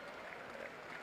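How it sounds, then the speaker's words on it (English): A wrestling crowd claps in a dense, steady patter at a 1983 match, a continuous wash of applause from a distance with a faint murmur of voices underneath. "You can hear that staccato clapping in the background."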